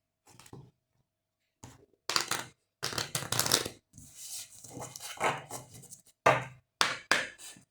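Oracle cards are shuffled by hand in separate bursts of crisp riffling and slapping, with short pauses between them, close and fairly quiet with no talk.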